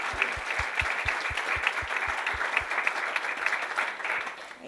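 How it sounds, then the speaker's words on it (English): Sustained audience applause from a crowd at an afternoon negotiated rulemaking meeting, dense and steady throughout, with a regular low thumping beat under the clapping for the first half. "So I'm going to give everyone a round of applause again for coming."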